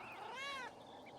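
Schlau the cat meowing in the game Pentiment: a single clear, drawn-out meow at moderate volume over a soft background hum, with no talk.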